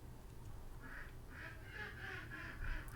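Ducks in a video game quack in a rapid series of about six nasal calls, evenly spaced and moderately near, over a low steady background hum, with no talk.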